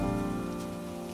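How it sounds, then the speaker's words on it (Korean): A rain sound effect played back through QLab show-control software gives steady, dense rainfall patter with a sustained low hum beneath, constant and fairly loud without any talking. "그러면 빗소리를 틀고"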